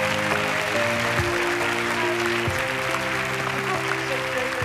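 Studio audience on a Turkish wheel-of-fortune game show claps in steady, sustained applause, with music playing underneath.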